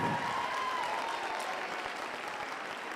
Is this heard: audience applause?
yes